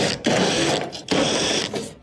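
A power driver whirs in loud, rapid bursts, spinning 1/4-inch screws out of a clothes dryer's panel, with two long runs separated by a brief pause.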